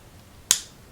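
A single sharp click from a SIG P365 pistol trigger breaking cleanly, close and crisp with a quick decay, alone against a quiet background.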